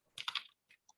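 Quiet computer keyboard typing, a quick cluster of three or four close key clicks followed by two isolated taps, soft and near in an otherwise silent room during a computer class.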